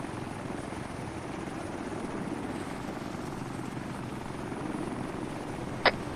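A helicopter in a military shooter video game thrums steadily at moderate loudness, a constant rotor drone with one sharp brief click near the end.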